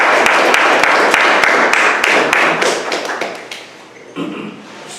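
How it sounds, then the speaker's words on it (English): Audience applause at a talk on preparing youth for the 21st century, a few loud close claps rising into dense clapping that fades over the last seconds, with a voice briefly heard at the end. "gotta give the brother a round of applause"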